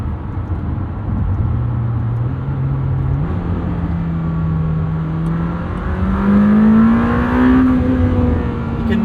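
A 2026 Lamborghini Temerario, 907 hp, revs hard on a morning commute, its engine note loud and close as the pitch climbs, steps and swells, with no one talking.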